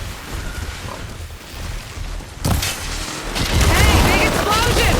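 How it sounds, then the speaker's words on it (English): A big explosion in the video game Horizon Forbidden West bursts in halfway through as a loud, rumbling boom that swells and lingers, following a quieter stretch with a voice speaking. "Hey, big explosion!"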